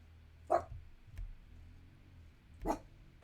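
Two sharp dog barks spaced about two seconds apart, moderately near, with a low background hum and no talking.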